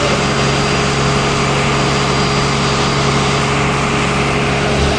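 A launch's engine running steadily in the engine room aboard a passenger ferry on the Ilisha route, a loud continuous low drone with a humming mechanical tone throughout, no speech.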